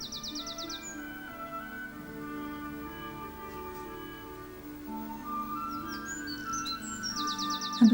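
Garden birds at feeders chirp in short, quick high-pitched bursts at the start and again near the end, fairly close over a low steady background hum, with no voices.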